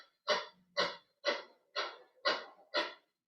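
Ujjayi throat breathing: six short, forceful breaths pushed through a constricted throat in an even, quick rhythm. They are close and fairly quiet, with brief silences between, and no speech.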